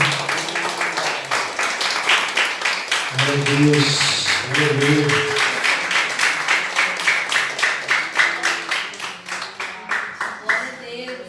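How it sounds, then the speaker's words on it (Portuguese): Church congregation clapping in rhythm during an evening service, steady close handclaps throughout while someone speaks and exclaims over them. "Aplauda o Senhor nessa noite, irmão, por essa palavra."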